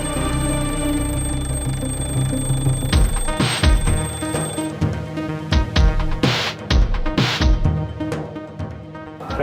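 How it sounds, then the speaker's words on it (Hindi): An alarm rings continuously at a house door, a steady electronic tone with sharp bursts standing out over a busy background, with no talk. "अलार्म बजेगा।"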